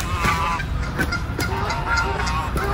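Birds fight and honk at an urban pond in Boston during mating season, with loud, harsh, repeated calls overlapping against steady outdoor background noise.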